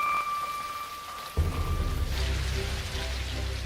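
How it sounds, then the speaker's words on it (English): Steady rain falls in southern India, a continuous broadband hiss that thickens and grows louder partway through, with a faint tone fading out early on. "When the blood rain keeps falling for 2 months"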